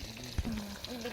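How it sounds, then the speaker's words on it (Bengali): Fish frying in a pan, a steady close sizzle lasting about a second, with a low thump and a brief tonal hum over it. "মাছ ভাজা"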